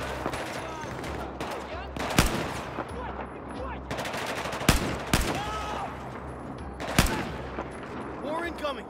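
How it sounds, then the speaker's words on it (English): Battlefield 4 campaign gunfight: rapid bursts of automatic fire with several sharp, louder individual shots cutting through, dense and continuous, with voices shouting underneath. "Watch out, I'm firing!"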